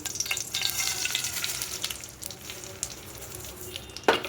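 Sugar sizzling in hot ghee in a pan over low flame, a steady soft crackle throughout with a brief louder clink near the end.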